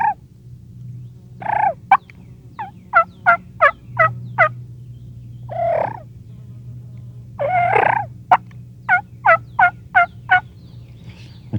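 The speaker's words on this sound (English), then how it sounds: "You can tone this call down, do your soft purrs and soft hen yelps, seductive stuff, and bring them right on in." Wild turkey calls made on a Walter Parrott 3.5 call during a spring hunt, with soft purrs and hen yelps answered by gobbles. Sharp, rapid clucks and yelps alternate with several longer, rolling gobble bursts, close and loud over a low steady hum.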